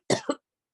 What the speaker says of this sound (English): I just want to say that I got a cough